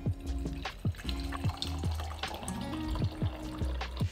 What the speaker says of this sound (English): with pre-boiled water, fill the bottom half of your Moka Pot up to just below the safety valve